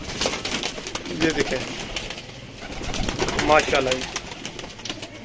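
Top-class breeding pigeons coo softly in a loft, low throaty rolling calls in a couple of bouts, while someone talks over them.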